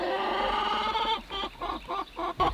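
Fat, soy-free hens on a farm cluck nearby, several loud pulsing clucks and squawks in quick bursts that grow choppier toward the end, with no talk over them.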